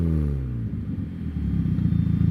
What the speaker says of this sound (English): Give me some rev pops